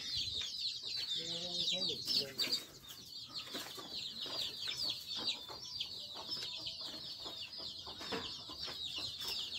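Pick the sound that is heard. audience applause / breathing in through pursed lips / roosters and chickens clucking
roosters and chickens clucking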